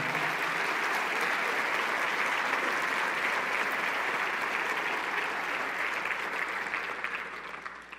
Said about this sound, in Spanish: dale una ovación de palmas al Señor